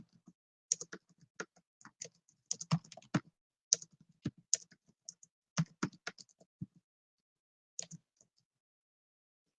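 Someone types on a computer keyboard, producing quiet, close, irregular bursts of key clicks with short pauses, alone without talk.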